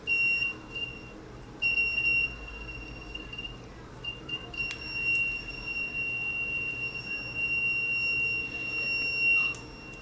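A homemade laser tripwire built with an LED and LDR sounds its buzzer alarm as a steady, high-pitched electronic tone that drones without pause for the full ten seconds, with no voices.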